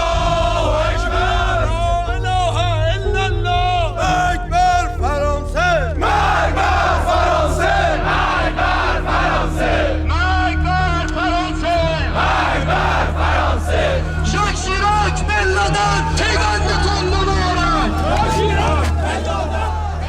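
A crowd of about a hundred Iranian regime militiamen protesting against France, loud chanting and rhythmic shouting in unison, sustained and close throughout.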